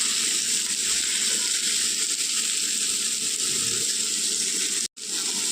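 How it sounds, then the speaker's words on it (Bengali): Water pours steadily in a continuous gushing stream into a pan of fried vegetables and ground chilli, cumin, coriander and turmeric, with a brief cut just before the end. "দিয়ে দেবো খুব সামান্য জল যাতে মশলাটা করতে সুবিধা হয় আর পুড়ে না যায়"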